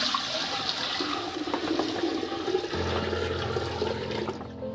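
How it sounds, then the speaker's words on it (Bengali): Water from a tap runs and splashes into a cooking pot for rice, a steady close rushing pour whose tone deepens as the pot fills. "ভাতের জন্য আমি জলটা হাঁড়িতে দিয়ে দিচ্ছি।"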